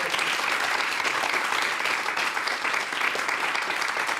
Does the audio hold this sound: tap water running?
no